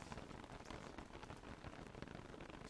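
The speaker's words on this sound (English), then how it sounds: "I might even wait till it stops raining" Steady rain falls throughout in the survival game Don't Starve Together, a dense, even patter of drops with no break and no voices.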